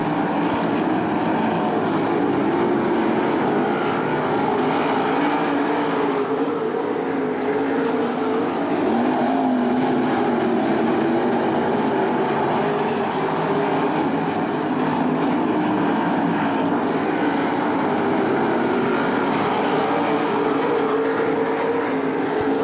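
Sprint race cars race at Attica Raceway Park, a steady roaring engine drone from the pack that stays loud and even throughout, without any talk.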